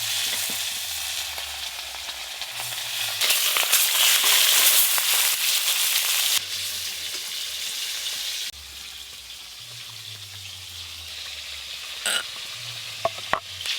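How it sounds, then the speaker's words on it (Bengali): River fish pieces frying together in a pan in a village kitchen, a loud continuous crackling sizzle that swells and eases over several seconds, with occasional scrapes and clinks. "এদিকে যা মাছ আছে এইগুলো সব একসঙ্গেই ভাজা হয়ে যাবে"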